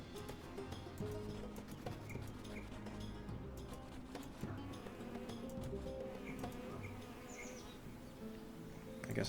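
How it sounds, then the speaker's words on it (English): A swarm of bees drones in a video game, a continuous faint buzzing layered under game music and ambient effects, with no talking. "A lot of bees. A lot of bees."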